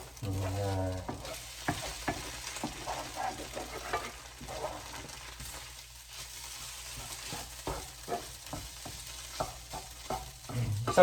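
Eggs fry in a pan with a soft continuous sizzle, punctuated by scattered clicks and scrapes from a utensil working the pan, close and moderately quiet, with no speech.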